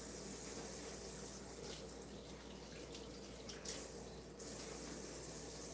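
A big kitchen knife is rinsed under a running tap at a sink, with a steady close water hiss and a couple of brief splashy shifts as the blade moves through the stream.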